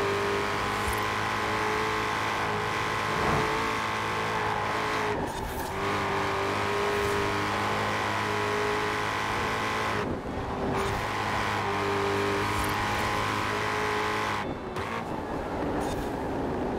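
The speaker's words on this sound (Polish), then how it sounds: "Zajebisty dźwięk tego Mustanga." A Ford Mustang GT engine in the racing game Forza Horizon 4 drones loudly and continuously, its pitch shifting with brief dips between gear changes, with no talk over it.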